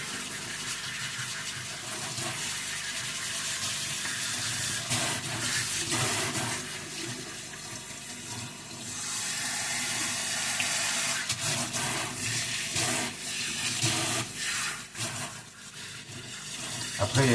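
Tap water runs steadily as a doll's hair is rinsed under it in a sink, a continuous close splashing stream with small shifts in flow throughout.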